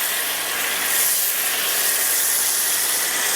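A foam cannon sprays car wash soap onto a BMW E92 M3, making a steady, close hiss with no breaks.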